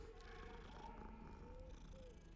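A cat purring as it is petted in the video game Hogwarts Legacy, a steady low rumble that continues throughout, faintly tonal and close, with no talking over it.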